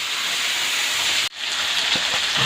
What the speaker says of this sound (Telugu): చికెన్ కొద్దిగా ఫ్రై అవ్వాలి